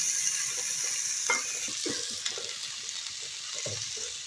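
Cauliflower stalks frying in a pan, a steady close sizzle with occasional stirring scrapes and clinks throughout, no talking.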